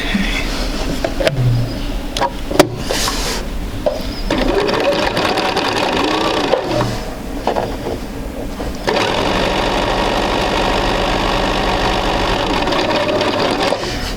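A home sewing machine runs steadily, stitching a quarter-inch seam on an intermediate sampler quilt. The motor hum pauses briefly and then resumes close and continuous, with short stretches of quiet handling in between.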